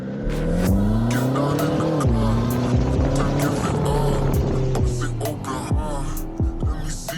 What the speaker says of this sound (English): Now let's go ahead and drive this car around and see how it actually feels to drive.